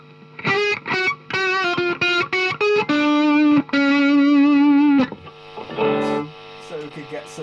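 Heavily distorted electric guitar on a super crunch setting with the gain all the way up, playing loud choppy chords and sustained notes in bursts, then a short strummed passage near the end.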